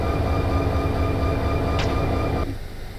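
A freight train with air brakes gives a steady rumble and hiss, a brief high squeal near the middle, then a sudden drop as the air releases and the sound quiets, with no talking.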